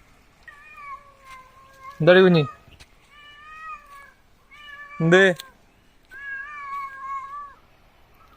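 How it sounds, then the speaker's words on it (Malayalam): A house cat meows twice close by, each a loud drawn-out cry, while someone speaks softly to it in between. "ഇത് നമ്മുടെ വീട്ടിലെ പൂച്ചയാണ്."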